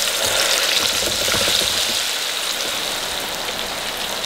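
Chicken wings drop into a deep fryer of oil preheated to 350 degrees, setting off a loud, dense, steady sizzle and crackle that holds without pause.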